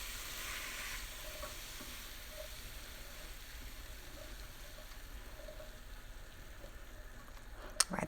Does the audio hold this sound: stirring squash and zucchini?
yes